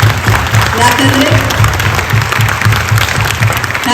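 Applause at a dinner gathering with celebrities, a crowd clapping in quick, steady rhythm at close range throughout, with voices mixed in underneath.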